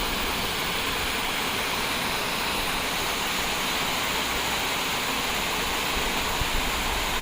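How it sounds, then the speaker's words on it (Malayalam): A small forest stream near Mankulam flows steadily, a continuous close rushing of water with no breaks and no voices. "നമ്മുടെ ബസ് സ്റ്റോപ്പിൻ്റെ അടുത്തുള്ള ചെറിയൊരു അരുവിയാണ്."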